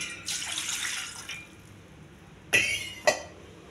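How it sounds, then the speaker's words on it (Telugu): Water pours into a bowl in a home kitchen for steaming bottle gourd pieces: a close, steady splashing stream for about a second, then two sharp knocks of the vessel after a quiet pause. "ఒక గిన్నె తీసుకొని కొన్ని నీళ్ళు పోయాలి."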